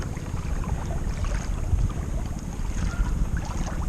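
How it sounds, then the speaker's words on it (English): Motorboat slowing as it passes kayaks on the water, a steady low engine rumble with wind and water wash, fairly close and continuous. "we got a boat. He's slowing down"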